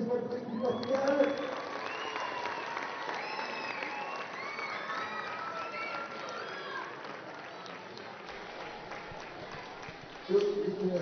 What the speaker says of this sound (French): Vos applaudissements pour l'équipe du Portugal.